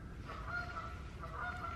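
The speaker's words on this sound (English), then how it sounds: "I'll wait until the geese stop fighting to continue my speech." Several geese honk loudly and harshly, overlapping calls in quick bursts like a squabble, fairly close by with no talking.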